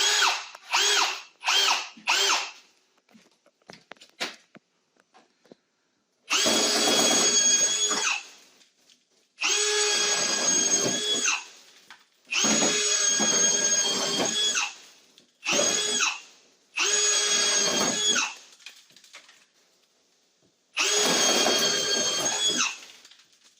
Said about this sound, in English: we're going to drill around the outside edge